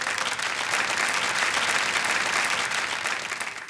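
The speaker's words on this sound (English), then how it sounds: "A big round of applause." Steady applause from a studio audience at a school spelling bee competition, dense and sustained throughout, tapering slightly at the end.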